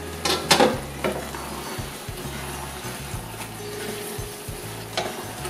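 Chicken and tomatoes for a Thalassery-style chicken biriyani sizzle steadily in a pan over medium heat, with a few sharp scraping stirs near the start and more spatula strokes scattered throughout, no talking.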